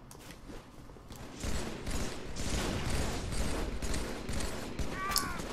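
Gunfire in a Halo 3 multiplayer match, rapid shots and footsteps blending into a loud busy wash of game noise that swells after the first second, with a brief faint voice beneath.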